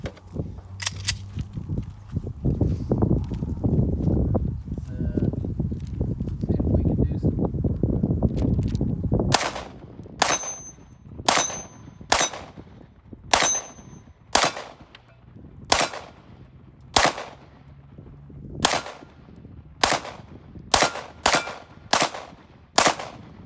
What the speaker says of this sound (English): shoot another mag.